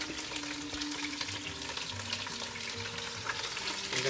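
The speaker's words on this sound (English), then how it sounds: "Throwing our onions in." Onions frying in olive oil in a pan, a steady dense sizzle with crackling that stays constant and close, moderately quiet, with no talking.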